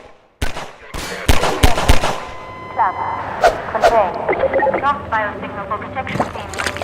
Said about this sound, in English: The turret firing at the breakable crates behind teaches players not to take the threat head-on